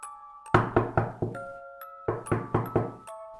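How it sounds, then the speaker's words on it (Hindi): Someone pounds hard on a door: two rounds of four loud, sharp thuds in a steady rhythm, with faint tonal chimes between them and no talking. "हमें दरवाजे पर किसी के जोर से दस्तक देने की आवाज आई"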